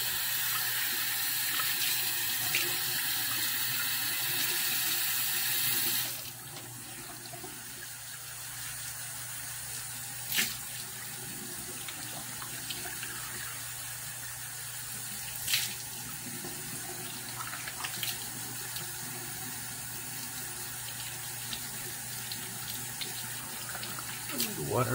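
A tap runs into a sink during a wet shave, first as a loud steady gush, then as a softer continuous trickle after it is turned down, with occasional clinks and faint talk.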